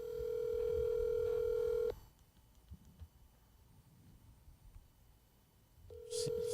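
A telephone ringback tone sounds while someone calls a cousin. Two long steady beeps are separated by a pause of quiet line hiss, close and with no talking.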